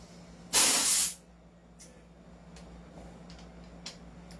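Gas bursts out of a pistol in one loud, sharp hiss lasting about half a second, followed by quiet room tone with a few faint clicks and small taps.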